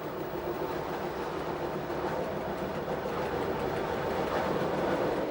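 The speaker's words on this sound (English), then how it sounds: "Our train emerges from the last tunnel to run along the lake edge towards Flüelen" A passenger train on the Swiss Gotthard line runs along the edge of Lake Lucerne towards Flüelen, a steady rolling rumble with faint clickety-clack of wheels over rail joints, continuous and fairly close throughout.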